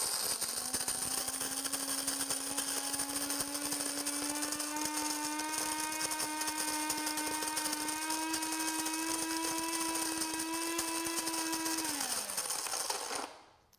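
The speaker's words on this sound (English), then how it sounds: "Today I'm gonna put it on medium and I'm just gonna hit start." Electric burr grinder on a medium setting grinding coffee beans, a steady close motor whine with a constant pitch for about twelve seconds, then winding down and stopping.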